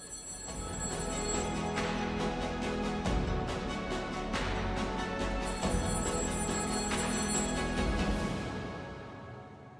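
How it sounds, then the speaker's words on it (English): A phone booth telephone rings in an escape room, a loud repeating electronic trill in regular bursts with short gaps, sustained for several seconds and fading at the end. "the phone booth is ringing"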